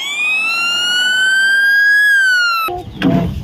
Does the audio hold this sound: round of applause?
no